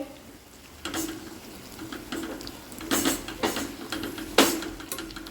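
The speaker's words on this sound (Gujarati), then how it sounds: "આદુ મરચીની પેસ્ટ એને થોડું મિક્સ કરી દેવાનું છે" Ginger-chili paste stirred into a pan of green turmeric curry, giving a soft background sizzle with several brief scraping strokes of a spoon, the last one sharpest, close by and with no talk.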